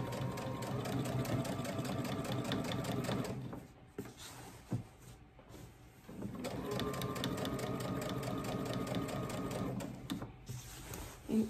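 A sewing machine stitches fabric in two long rapid runs of close mechanical clatter, separated by a pause with soft handling clicks.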